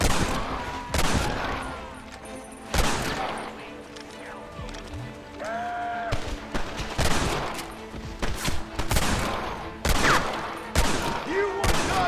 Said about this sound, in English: What about the Gatling gun?